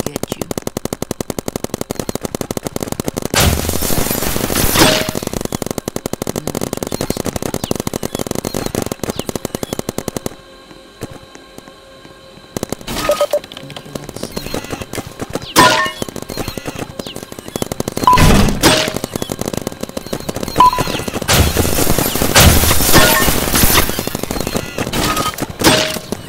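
Rapid automatic gunfire from sentry guns in a Roblox paintball game crackles in repeated loud bursts, separated by a brief quiet stretch and scattered single shots.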